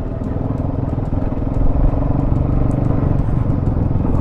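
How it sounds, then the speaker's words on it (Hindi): A motorcycle rides a rough mountain road on the way to Kedarnath. The engine gives a close, steady rumble with rattling clatter from the uneven surface throughout. "ऐसे में बताओ बाइक कैसे चलेगी।"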